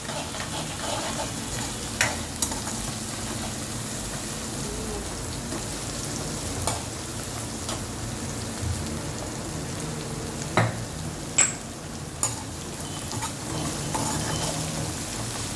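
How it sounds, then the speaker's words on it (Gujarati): Onions fry in bubbling oil with ginger-garlic paste, a soft continuous sizzle at moderate distance broken by occasional sharp clicks and scrapes from a stirring spoon against the pan, with no one speaking. "ડુંગળી બરોબર એકદમ શેકાઈ જવી જોઈએ સરસ મજાની"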